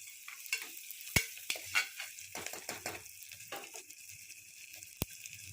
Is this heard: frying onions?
yes